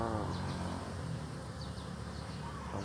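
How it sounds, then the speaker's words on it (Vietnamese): Bees buzz steadily around flowering coffee plants in a coffee garden, a close, continuous insect hum with no talk. "Các bạn có nghe ve vo tiếng ong kêu không?"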